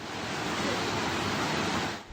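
Loud, steady rushing of fast-moving floodwater after typhoon rain in Carcar City, Cebu, a broad roaring wash that holds constant before dropping off at the end.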